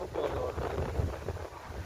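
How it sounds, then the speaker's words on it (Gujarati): Strong wind buffets the microphone in a continuous low roar, gusting unevenly throughout with no clear voices, heard outdoors while riding a vehicle on the road during the Ashadhi Bij fair at Parab Dham. "અમે તો પવન બહુ છે, પવન બહુ છે."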